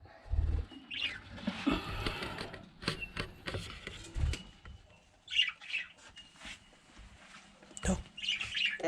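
Week-old baby budgies chirp in a cage in short, high, scattered tweets between rustling and handling noises, heard up close with brief talk.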